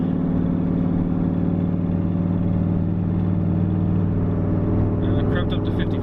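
A street truck with triple its stock boost cruises at speed, producing a steady, deep engine and road drone heard from inside the cab, with brief faint voices near the end.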